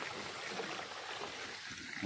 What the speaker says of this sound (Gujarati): આપણી થઈ ગઈ મોટર ચાલુ થોડું ઘણું રિટર્ન પાણી કરી દીધું